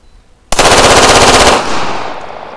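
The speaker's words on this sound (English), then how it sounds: "I'm gonna try taking the K105 for a ride." Grand Power K105 pistol fired on full auto: one loud, rapid burst lasting about a second, a continuous rattle of shots that cuts off abruptly and leaves a fading echo, with no talk.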